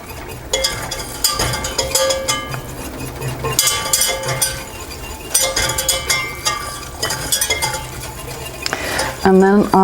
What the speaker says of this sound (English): it's starting to bubble, which is what I want. And I'm just going to stir this and let it cook.